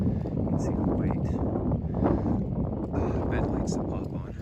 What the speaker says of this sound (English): So it's super windy right now.